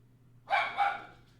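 A dog in a hallway gives two quick barks in succession, moderately distant and fairly faint, with no talking over them.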